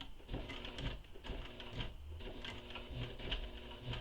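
A sewing machine stitches close to the metal hardware on a handmade convertible bag, a faint, steady mechanical rattle of rapid needle strokes.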